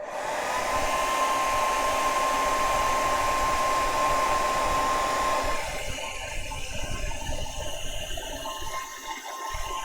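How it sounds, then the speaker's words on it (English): A hair dryer blows steadily at close range with a constant whine, its airflow roar continuing throughout and easing slightly toward the end. "So we're gonna force dry it with our hair dryer."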